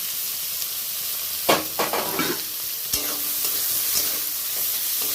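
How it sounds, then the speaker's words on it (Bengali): Chopped onion with dried chillies hits hot oil for a chicken curry, raising a loud, steady hiss of frying, broken by a few clattering stirs of a spatula against the pan. "এবার পেঁয়াজটা আমি দিয়ে দেব এই তেলের ওপরে"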